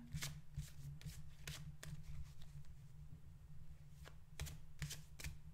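Tarot cards being shuffled close up, a steady run of crisp riffling clicks and flicks over a low hum, with no voices.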